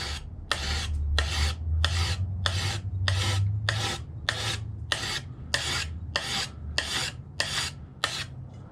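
A hand file rasps across a knife blade forged from a horseshoe in about fifteen even back-and-forth strokes, close and crisp, each a short scraping burst in a steady rhythm.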